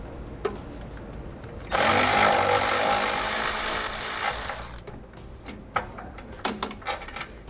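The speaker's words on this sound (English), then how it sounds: "We're going to remove it using a 1/2-inch socket." A 1/2-inch socket on a power tool spins off the jounce bumper of a 2007 Ford during an air helper spring install, a loud, steady whirring burst of about three seconds followed by a few faint clicks and taps.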